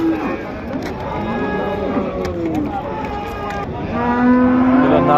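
Cattle lowing at a busy livestock market in Uzbekistan, a few drawn-out moos rising over steady crowd murmur and nearby talk throughout.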